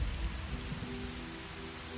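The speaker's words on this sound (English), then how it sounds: "clouds that are now coming in with heavy rain, and you can hear the sounds of thunder occasionally in the distance" Heavy rain falling steadily, with a low rumble of thunder far off underneath the dense, even hiss of the downpour.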